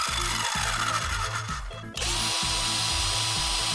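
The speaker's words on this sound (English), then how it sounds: "We got cordless electric drills." A cordless electric drill sound effect runs in short, rhythmic bursts of whirring. The pitch shifts abruptly partway through, then it keeps spinning loudly and steadily, with no talk.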